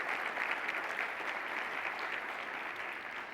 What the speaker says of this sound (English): let's give her a round of applause and all of them a round of applause